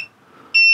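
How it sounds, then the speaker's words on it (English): A multimeter's continuity tester gives a short, loud, steady high-pitched beep as its two leads touch. The beep starts abruptly after a brief faint blip and a moment of near silence. "put them together, and you should hear a beep and a light"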